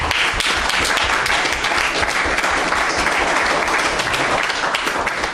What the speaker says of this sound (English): Let's clap for the Black Stars.